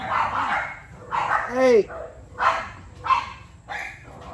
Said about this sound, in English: That's what happens when people come to visit. The dogs go crazy.